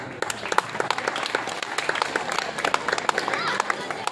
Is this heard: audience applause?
yes